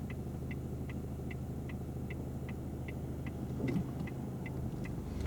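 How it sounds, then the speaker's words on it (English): Heard from inside a car waiting to pull out, another car approaches from the left and passes as a low, swelling rumble, while a steady indicator tick repeats in the cabin. "there's a vehicle coming from my left, so I'm just going to wait for them to go"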